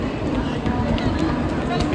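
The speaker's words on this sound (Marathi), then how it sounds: "CSTला गर्दी." Busy crowd at CST railway station, a steady dense murmur of many voices and footsteps close around, continuous throughout with no single voice standing out.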